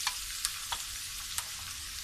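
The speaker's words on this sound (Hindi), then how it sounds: "हमने कढ़ाई में तेल डाल दिया है और अब सबसे पहले हम इसमें प्याज डालेंगे" Onions frying in oil in a kadai give a continuous bright hiss with a few sharp crackles and pops spaced through the sizzle, close and steady, with no talking.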